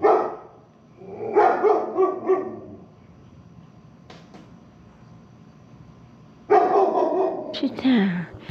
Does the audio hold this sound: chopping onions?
no